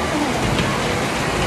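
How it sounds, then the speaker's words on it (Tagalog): Steady rain hissing across a surface, dense and continuous with no pauses, fairly close and even in loudness throughout. "Rain, rain. Ulan."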